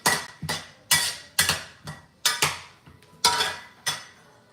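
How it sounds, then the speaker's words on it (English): A stir-fry is stirred and flipped in a pan over medium heat, giving a run of about ten sharp metallic scrapes and clanks in an irregular rhythm, close and fairly loud, with no talking. "Rotate them around, flip them, stir it all together."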